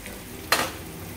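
Curry leaves drop into hot oil for a tempering with chili, meant for a cucumber dish, giving one sudden loud sizzle burst that quickly fades into a faint, steady background hiss.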